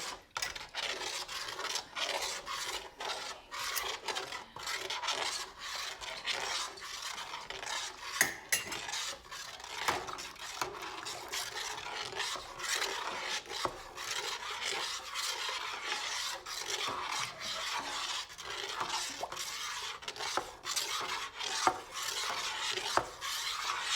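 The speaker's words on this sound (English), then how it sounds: "I'm throwing in my rennet, and I'm going to stir for 30 seconds" A spoon stirs warm curdling milk in a pot after rennet goes in for homemade mozzarella, giving soft continuous scraping and swishing with occasional metallic clinks against the pot, fairly quiet and without voices.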